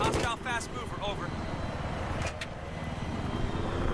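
Roaring jet engine noise from a fast fighter aircraft in the Battlefield 3 game on Kharg Island, a steady loud rumble throughout with a voice talking over the start.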